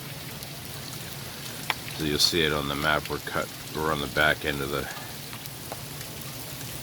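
Rain during Tropical Storm Fay at a New Jersey beach, tapering off outside an RV. A steady, soft hiss continues under someone talking.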